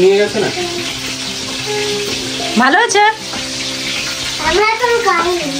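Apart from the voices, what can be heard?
chicken frying with onions in a pan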